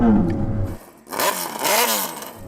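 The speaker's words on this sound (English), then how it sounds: "Go on, Chris, can you rev up your bike?" A superbike engine revs during a sound check: a low idle rumble, then a brief dip and repeated sweeping throttle blips that climb and fall, loud and close, with a deep, car-like tone.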